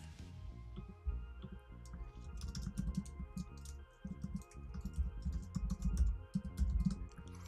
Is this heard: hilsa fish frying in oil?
no